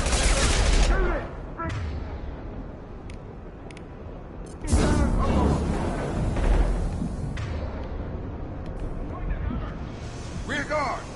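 Bursts of rapid gunfire and impact blasts in Mass Effect 2 combat, loud sustained volleys with a heavy hit partway through, mixed with shouted in-game voices.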